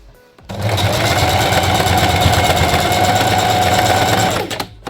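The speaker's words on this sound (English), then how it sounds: "so just sew this bit, kind of a top stitching, just to close up that space which you left" A sewing machine runs steadily for about four seconds, top stitching a double-sided tote bag made from old jeans, with a dense even mechanical whir starting and stopping abruptly and no talk over it.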